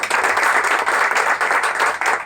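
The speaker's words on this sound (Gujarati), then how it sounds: "તમારા માટે એકવાર જોરથી તાળી પાડો" A hall full of guests at a Gujarati Samaj gathering in Chennai claps loudly and steadily in a dense, continuous wash of applause.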